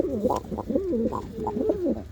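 Red female pigeon with rings on both feet cooing in a series of close, throaty rolling coos, several phrases in quick succession with no talk over them.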